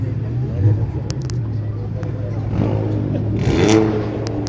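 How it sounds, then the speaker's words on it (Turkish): A race car engine revs loudly at the start of a race, its exhaust crackling over a steady mechanical drone, with people talking over it. "Arkadaşlar egzoz patlatıyor bunlar."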